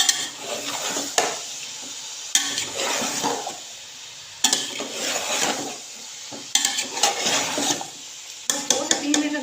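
Cooked potato, cauliflower and pea sabzi is stirred in a pan, producing repeated bursts of spatula scraping and wet shuffling every couple of seconds, loud and close, separated by quieter simmering.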